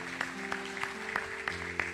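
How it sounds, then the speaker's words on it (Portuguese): A church congregation claps steadily in a dense wash of applause, while sustained low instrument tones drone underneath throughout. "Dá glória a Deus bem forte, aplaude"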